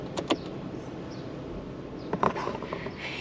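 Pop-up headlights on a Porsche 944 S2 lowering, heard as short motor whirs and mechanical clunks, one brief burst early and another around the middle, against a steady interior background hum.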